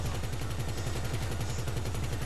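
A turret mounted on an armored limousine in GTA V Online fires a sustained, evenly pulsing stream of rounds that stays loud and dense from start to finish.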